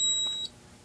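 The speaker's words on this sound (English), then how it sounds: "Alarm, Connor's room photo detector." A photoelectric smoke detector alarm in a bedroom gives one short, loud electronic beep during a fire alarm system test, then goes quiet.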